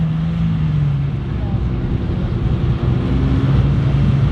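A rally car engine at the Redwood Rally, heard as a loud, sustained low drone with steady tonal engine notes and slight rises in pitch as it holds revs, with no clear sharp rev spike.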